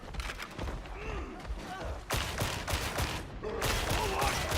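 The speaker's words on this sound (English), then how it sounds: "I'm sniping in Darktide." Sniper rifle shots in the game Darktide, a few sharp loud cracks that cut in over a busy backdrop of combat noise, with a speaking voice mixed in.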